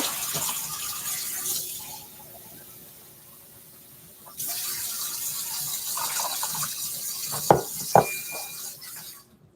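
Water runs from a kitchen tap during meal prep, a steady hiss that drops away midway and resumes, with a couple of sharp clanks near the end.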